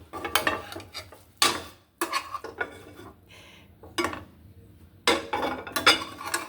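Breakfast being flipped in a frying pan: a series of sharp metallic clatters and scrapes of a utensil against the pan come in irregular bursts separated by short quiet gaps.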